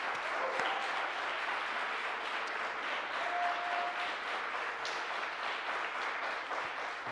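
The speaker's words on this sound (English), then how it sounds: "let's give Caleb a big round of applause." A church audience at a fireside chat book talk applauds author Caleb Gayle, with a continuous, moderately distant patter of many hands and a few sharper individual claps.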